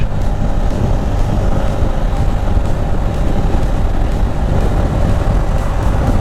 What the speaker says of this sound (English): all I have to do is throttle, and you see, wow, it's just a joy riding in the highway